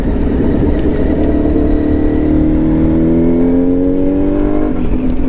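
A Suzuki B-King motorcycle accelerates hard at full throttle, its engine note rising steadily in pitch as it climbs through the revs, loud and close, with no voices.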